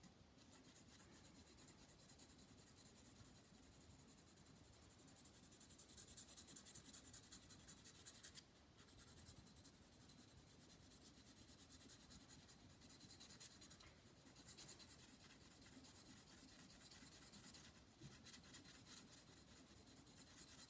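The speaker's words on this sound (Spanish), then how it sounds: "Se puede utilizar el lápiz de la manera habitual para retocar algunos contrastes," A pencil rubs and scratches steadily across paper while retouching contrasts and outlines in a drawing of calla lilies, a quiet continuous scraping with brief pauses, close and soft, with no speech.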